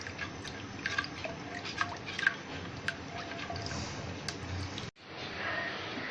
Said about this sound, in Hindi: अब एक बॉईल आ चुका है।